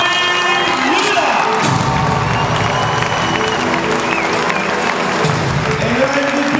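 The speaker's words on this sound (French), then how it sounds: "Applaudissements à Sandrine Gruda." Loud arena crowd applause and cheering with whoops and shouts for the MVP at a women's basketball France–Canada trophy ceremony, continuous throughout, with voices and music mixed in.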